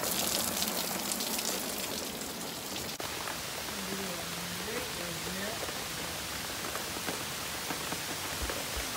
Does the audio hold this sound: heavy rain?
yes